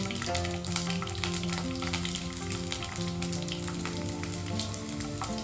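Garlic cloves with cumin seeds crackle and sizzle in hot oil for a tempering, a dense, steady close frying hiss with scattered pops and no talking.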